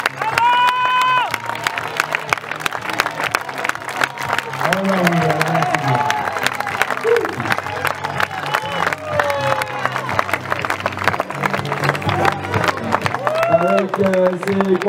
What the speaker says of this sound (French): vos applaudissements pour cette.